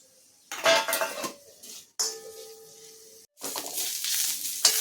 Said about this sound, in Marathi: त्या तेलात आपण सर्वात पहिले टाकणार आहोत कांदा कांदा छान आपल्याला गुलाबी परतून घ्यायचा आहे